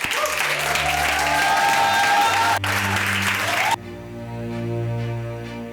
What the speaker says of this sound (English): please give your round of applause to the founder of G-Sport for Girls, Kaz Naidu